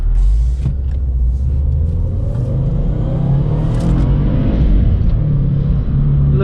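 Subaru WRX accelerating hard in first gear, heard from inside as a loud, deep engine roar and rumble that holds steady and rises slightly, with no talking.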